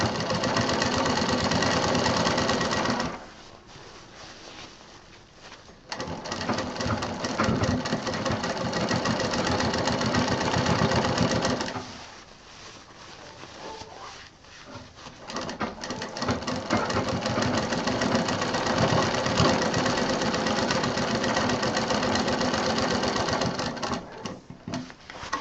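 A sewing machine stitches a sling bag, running loud and close in long continuous bursts with two short pauses, a dense steady mechanical whir.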